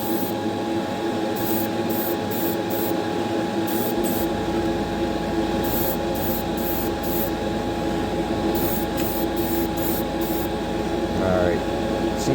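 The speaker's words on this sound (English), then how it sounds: "I always like to spray the back first." Clear coat paint hisses steadily from an aerosol can onto a Hot Wheels car, a continuous close spray over a background hum with short intermittent bursts.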